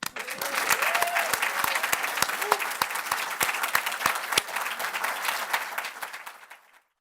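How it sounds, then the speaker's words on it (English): Applause from an audience at the 2023 GSE Alumni Excellence in Education Award ceremony. Dense, steady clapping fills the room with a few sharper individual claps and a faint voice early on, then it thins out and stops near the end. "Let's have a warm-up applause for them."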